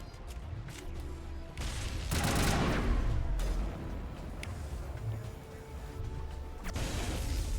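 Gunfire in Mass Effect Legendary Edition during a firefight, with dense bursts of shots and impacts, loudest midway, over a busy combat soundscape with no talk.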